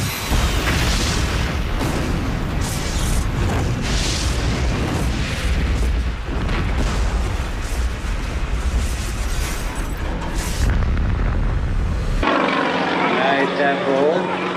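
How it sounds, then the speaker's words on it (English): A plane making its final test run gives off a loud, continuous roaring rumble, with rushing bursts and booming swells throughout. Near the end the sound cuts abruptly to a thinner, quieter noise. "Just as the plane is making its final test run"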